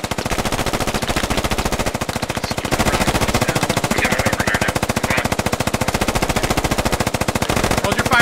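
Sustained rapid machine gun fire in the military shooter game Squad, a loud continuous rattle of closely spaced shots lasting throughout.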